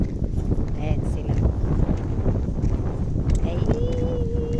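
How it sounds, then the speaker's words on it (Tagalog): Wind blows steadily across a hot seaside fishing spot at Lingayen, a constant low rumble buffeting the microphone while faint voices and distant vehicle or boat noise sit underneath. "Sarap na hangin dito"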